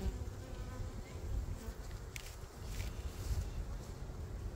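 A honey bee swarm at a new apiary gives off a steady low drone of countless wings, hovering close and continuous with faint handling noises mixed in.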